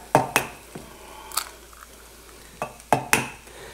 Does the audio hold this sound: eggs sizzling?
yes